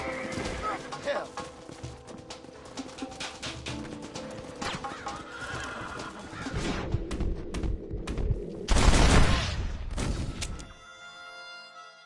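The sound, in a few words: horses neighing and hooves in a cowboy video game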